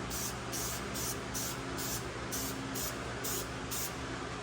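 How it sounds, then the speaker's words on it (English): An aerosol can of K&N filter oil sprays onto an air filter in a steady series of short bursts, about nine hisses in a regular rhythm, close by. "I use the K&N filter oil. I basically, like, I spray it on there."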